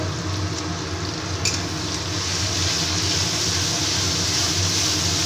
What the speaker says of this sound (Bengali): ভালো করে মশলাটাকে এবার কষিয়ে নেব।